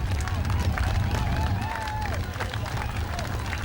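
A roadside crowd cheers and claps for cyclists passing on a climb during a stage of the 2007 Tour of Britain, a steady busy roar of applause and shouting with a whistle-like tone drifting through.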